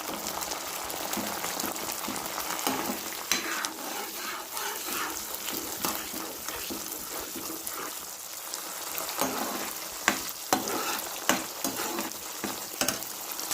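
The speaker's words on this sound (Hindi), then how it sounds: "और मैं इस टमाटर को अच्छे से, क्योंकि उबल तो चुका है, 2 से 3 मिनट तक मैं इसको भून लूँगी फिर भी" Boiled tomatoes fry in a pan with a steady, close sizzle and bursts of crackling, broken by occasional sharp clicks and scrapes of stirring, with no voices.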